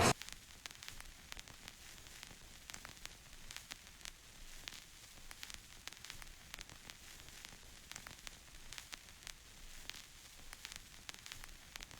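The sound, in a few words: radio static in a played audio clip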